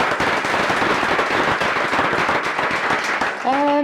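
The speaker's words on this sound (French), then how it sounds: "je vous invite à applaudir nos invités pour commencer" An audience applauds guests at the opening of a round-table evening event, with dense, loud, continuous clapping throughout and a brief voice near the end.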